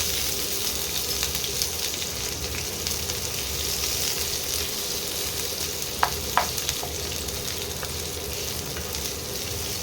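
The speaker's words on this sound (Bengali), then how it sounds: "পেঁয়াজটা একটু ভাজা ভাজা হোক।" Coarsely cut onion frying in hot oil in a pan for an egg curry, a steady close sizzle throughout with a few brief clicks of stirring and no voices.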